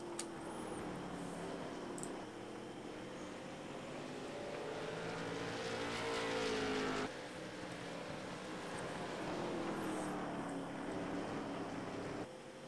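Late model race cars circling a short oval track at night, a continuous roar of several engines rising and falling as they pass, heard from the grandstand at moderate distance with no talk.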